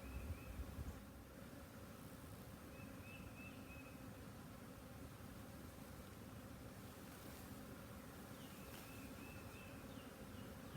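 A low, continuous buzz of many honeybees in a swarm box on a hot day hums steadily and faintly throughout, with a soft background rumble and no voices.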